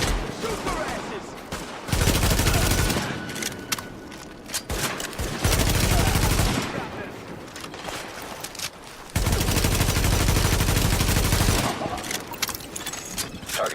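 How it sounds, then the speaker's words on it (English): Heavy gunfire from a firefight in The Division video game comes in three long, loud sustained bursts, with sharper scattered shots in between. "Shoot their asses!"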